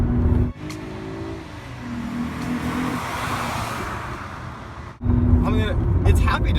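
Eurocharged Mercedes-Benz C230 W203 engine held at high RPM in fourth gear, a loud sustained drone from inside the car with a brief dip around a shift, and someone speaking over it at moments.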